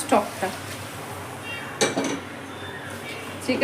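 Chicken stock goes into a pan of spiced chicken in a home kitchen, with a few sharp clinks and scrapes of a utensil on the pan and a quiet background hum.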